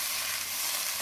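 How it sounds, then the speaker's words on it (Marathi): Chickpea greens sautéing in a pan, a steady close sizzle and fry with faint stirring throughout, no voices over it. "असं परतून घ्यायचे असं थोडं चांगलं।"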